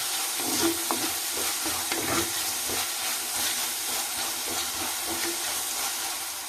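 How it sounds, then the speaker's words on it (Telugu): Chana dal with green chilies sizzles and spits in hot oil inside a clay pot, a dense continuous frying hiss with scattered pops and a few stirring scrapes, close and fairly loud, no voices. "శనగపప్పు ఇవి బాగా వేపుకుందాం"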